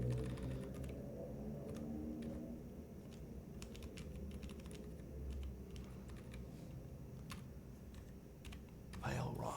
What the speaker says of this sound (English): Throwing me off there with typing.